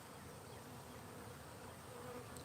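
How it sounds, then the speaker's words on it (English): A steady, dense swarm of bees drones around a wild hive, a continuous close buzz with no pauses or talk. "I just didn't know the temperament of these bees."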